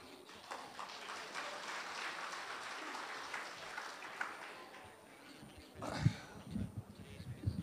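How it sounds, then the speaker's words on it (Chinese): Faint, distant audience applause follows a xiangsheng crosstalk performance at a Deyun Society comedy show, a steady soft patter of clapping with a few louder claps near the end. "感谢朋友们的掌声鼓励"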